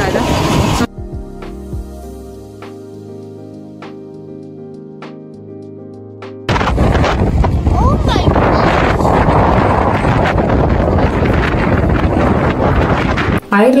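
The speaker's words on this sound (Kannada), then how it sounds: "ಐರ್ಲೆಂಡ್ ಅಲ್ಲಿ ತುಂಬಾ ಜೋರಾಗಿ ಬ್ಲೋಯಿಂಗ್ ವಿಂಡ್ ಇರುತ್ತೆ" Strong wind buffets the microphone outdoors in Ireland, a loud, continuous roaring rush that starts abruptly partway through after a quieter indoor stretch with steady humming tones.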